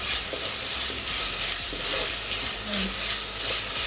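Ginger garlic paste sautéing in a pan for a methi chicken gravy, a steady, close hiss and sizzle with occasional soft stirring clicks.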